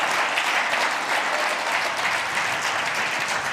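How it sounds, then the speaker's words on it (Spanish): A church congregation claps steadily and enthusiastically, a dense, even wash of applause that lasts throughout without letting up. "¿Por qué no le da un aplauso al Señor?"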